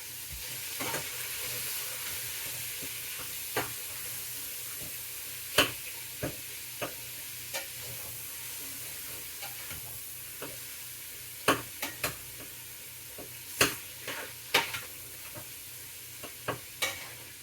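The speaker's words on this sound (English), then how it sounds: "you probably hear I got hamburger meat browning" 80-20 hamburger meat browns in a pan for a beefy yellow rice soup, producing a faint, even sizzle with scattered crackling pops and occasional clicks over roughly seventeen seconds, without speech.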